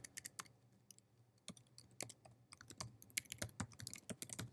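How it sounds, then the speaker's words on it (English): Typing a web address on a computer keyboard in Safari: close, crisp key clicks in quick irregular bursts with short pauses, alone without talk. "I'm going to type in"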